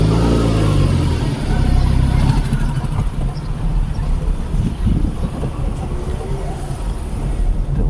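A car engine running steadily while parking near the Tukai temple in Kondhanpur, Pune, with a low rumble that surges early on and then settles, carrying on under the surrounding noise.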